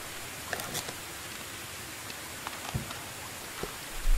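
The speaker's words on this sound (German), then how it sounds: "Der Regen geht mir auf den Sack." Rain in the video game Medieval Dynasty, a steady soft hiss of falling rain with a few faint taps and rustles over about four seconds, no voices heard.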